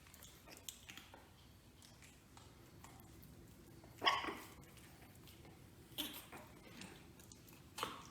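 A litter of three four-week-old Shih Tzu puppies gives a faint, high yip or bark in a quiet room, with a few softer squeaks and small shuffling noises around it.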